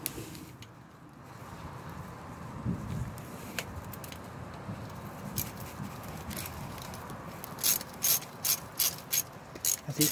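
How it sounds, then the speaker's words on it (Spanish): Ratchet clicking in bursts while removing automatic transmission pan bolts on a car, with a rapid run of sharp clicks near the end over low background noise. "Así se van quitando los tornillos sucesivamente"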